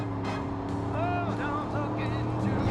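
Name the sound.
car driving in the video game Far Cry 5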